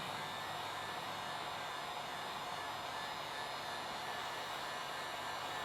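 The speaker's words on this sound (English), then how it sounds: "when you're using a heat gun or a hair dryer, you want to make sure that you don't let it sit in one spot too long" A heat gun or hair dryer warms the painted metal of a dented BMW 435i (F33) panel, blowing as a steady, even whoosh close by with no talk over it.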